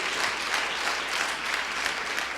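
Members of a church congregation applaud the Lord in a continuous, even wash of clapping, moderately loud and steady throughout, with no speech over it.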